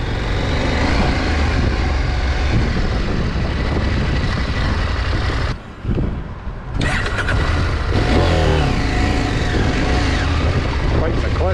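A KTM 890 Adventure R motorcycle ridden off-road produces a loud, steady roar of engine and rushing wind, briefly dropping out midway before the revs climb again.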